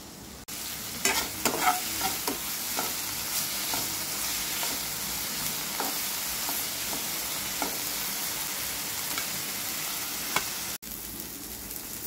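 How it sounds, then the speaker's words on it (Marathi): Tomatoes frying in oil in a kadhai after browned onions, for a mutton and peas curry, give a continuous close sizzle broken by scraping stir strokes near the start, with no speech. "तर याच कढईत टाकते आता मी टोमॅटो"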